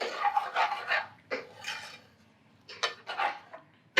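Base gravy being stirred into garlic chilli chicken in a pan, with a series of close scraping and rubbing strokes from a utensil on metal in uneven bursts, with no talk.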